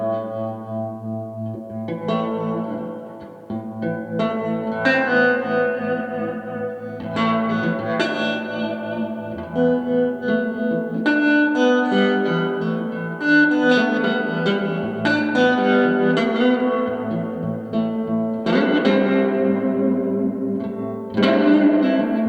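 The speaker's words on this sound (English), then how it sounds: "I really like the TREMLORD 30's reverb and tremolo." An electric guitar plays through a TREMLORD 30 amplifier with reverb and tremolo, loud sustained chords and notes pulsing and washing out in a spacious, echoing tail, with no talking.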